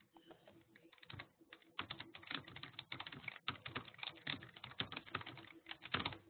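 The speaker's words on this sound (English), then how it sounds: "And I'm going to type a section title." Rapid keystrokes on a computer keyboard as a section title is entered in an online writing tool, a close, steady clatter with brief pauses, heard alone.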